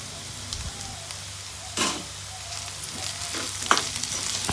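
Vegetables sautéing with ginger garlic paste and coriander for veg pulao, a low, continuous frying hiss with a few louder bursts and scrapes as the pan is stirred.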